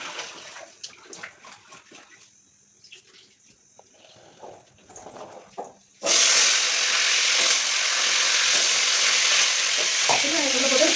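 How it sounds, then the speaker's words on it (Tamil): Peeled onions drop into hot oil for a soya chunk curry, bursting into a loud, steady sizzle and fry that runs unbroken after a quieter stretch of kitchen noise. "நம்ம உரிச்சு வச்சுருக்கோம் பார்த்தீங்களா வெங்காயம், அதை அப்படியே உள்ள சேர்த்துக்கலாம்."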